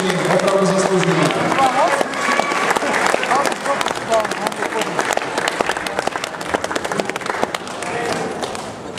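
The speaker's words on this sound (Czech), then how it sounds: "zatleskejte si, zatleskejte bojovníkům, zatleskejte organizátorům" A crowd at a Czech fight gala in Pardubice applauds loudly and steadily, a dense wash of clapping and cheering with a voice over the top near the start.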